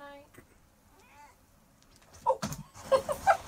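A cat meows indoors, several short, close meows clustered near the end after a quiet stretch with faint murmuring.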